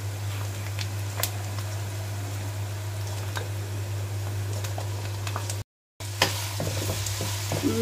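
Small chicken pieces sizzle steadily in a pan with onions fried for two minutes, a constant crackling hiss with occasional stirring clicks and a brief cut near the end; no one speaks.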